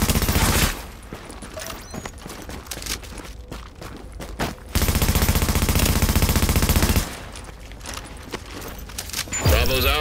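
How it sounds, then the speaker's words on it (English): In the video game Tom Clancy's The Division, enemy gunfire rattles in loud, rapid automatic bursts. The shooting stops and restarts several times amid other game effects, and a voice briefly joins in. "Fortification at Alpha is taking enemy fire"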